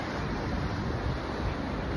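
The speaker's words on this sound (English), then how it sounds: "Waves crash into this rock cliff, shoot up and fills that tide pool" Ocean waves crash against a rock cliff above a tide pool on the Oregon coast, a loud, dense, unbroken roar of surf mixed with wind noise.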